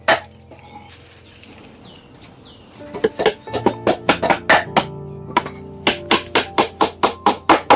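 Thin 1.5-inch nails are hammered into a wooden beehive super chamber in a rapid run of sharp, loud knocks that keeps speeding up. Softer handling sounds and clatter come before the strikes.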